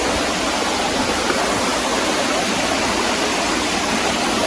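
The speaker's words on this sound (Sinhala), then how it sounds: "මෙතන පොඩි ඇල්ලක් එනවා." A small waterfall on a jungle stream in Sri Lanka rushes in a steady, close, unbroken hiss of falling water, with no voices over it.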